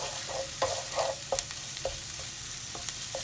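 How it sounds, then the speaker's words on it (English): Samosa filling of grated ingredients and a garlic clove frying and being stirred in a pan, with a steady soft sizzle and several distinct scraping stirs spaced irregularly, close by with no talking. "I'm just gonna let those cook for a little bit"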